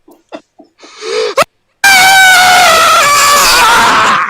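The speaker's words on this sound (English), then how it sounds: "I feel bad for everyone at home who had to hear that scream" A loud, piercing human scream bursts in after a few brief sounds and a moment of silence, holding strong and close for over two seconds with wavering pitch.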